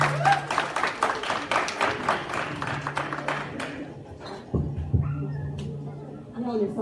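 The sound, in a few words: audience applause welcoming a performer on stage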